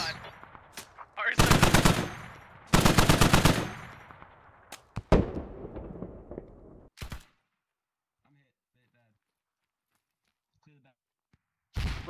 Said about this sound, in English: I'm gonna be utilizing this Dishka over here.